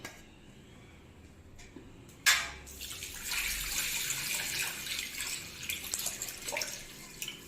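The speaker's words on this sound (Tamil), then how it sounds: "இப்போ நம்ம தண்ணியை ஊற்றி மூடி வச்சிடலாம்" Water is poured onto cooked, cooled rice in a pot, starting with a sudden splash and then a steady, soft gurgling stream that continues for several seconds.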